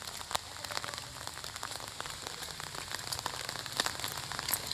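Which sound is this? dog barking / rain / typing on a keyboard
rain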